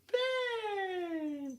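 A cat gives one long, clear meow that starts sharply and slowly falls in pitch, loud and close with nothing else heard.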